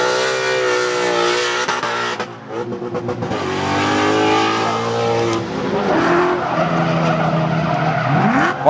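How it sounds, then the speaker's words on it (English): Cars drift at a racing event at Virginia International Raceway, loud engines revving and rising in pitch over continuous tyre squeal and skidding, several bursts overlapping close by with no talk. "Where else can you watch drifting and a road race at the exact same time?"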